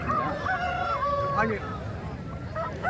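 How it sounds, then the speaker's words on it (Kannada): Country chickens and roosters at a busy village poultry market, clucks and short crowing calls over crowd murmur, with voices talking nearby. "ಇವೆಲ್ಲ ನಾಟಿ ಕೋಳಿ ಸ್ನೇಹಿತರೆ, ಇವೆಲ್ಲ ತೂಕದ ಲೆಕ್ಕ"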